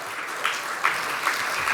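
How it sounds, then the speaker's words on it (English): Applause from the audience at an investment conference as the treasurer takes the stage, a steady wash of clapping with a few louder bursts, no voices over it. "Can I have a thunderous round of applause for our treasurer?"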